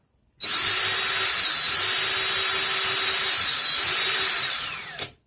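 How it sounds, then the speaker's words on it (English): A power drill twisting coil wire whirs at high speed for about four seconds, pitch dipping slightly under load, then stops with a brief click. "You're then going to twist the drill in either direction, it does not matter."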